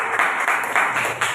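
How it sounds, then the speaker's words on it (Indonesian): Students in an Indonesian classroom clap together at the end of a lesson, a moderate, fairly steady patter of hands that swells in a few pulses over a short stretch, with no one talking. "beri tepuk tangan dulu"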